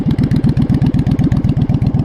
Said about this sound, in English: This is a great motorcycle, really.